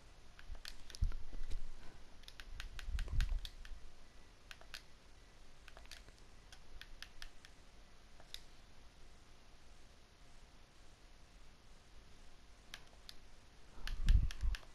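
Quiet tapping on a computer keyboard, with irregular clusters of light key clicks spread through the stretch and a couple of low thumps near the start and end.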